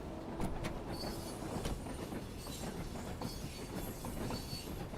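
Train wheels squeal on a curve in the Train Sim World video game's Isle of Wight line, a steady rumbling rail roar with high screeching tones running throughout, fairly quiet and without talk.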